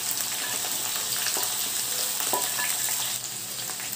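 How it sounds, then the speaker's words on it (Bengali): Potato, cauliflower, carrot, capsicum and beans stir-frying for an Indian vegetable curry, giving a steady close sizzle with occasional spatula knocks and scrapes against the pan, without any voices. "এগুলো আমি 10 মিনিট ধরে এইভাবে নাড়াচাড়া করে এগুলো ভালো করে ভেজে নেব।"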